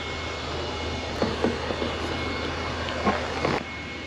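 A leaf blower runs continuously nearby, clearing leaves at a curbside in a steady, loud, airy roar with slight surges and no talking.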